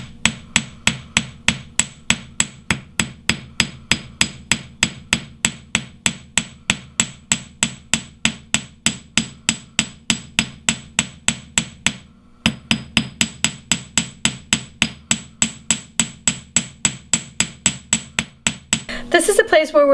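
A hammer strikes a silver wire hook being shaped for a wire-wrapped necklace, a long run of quick, evenly spaced metallic taps, close and crisp, with one brief pause midway.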